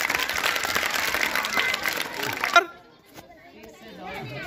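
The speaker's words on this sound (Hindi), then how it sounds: "चलो तालियां बजाइए इनके लिए।" A crowd at a municipal sports competition applauds runners in a race: dense, loud clapping mixed with chatter that stops abruptly partway through, leaving quieter background voices.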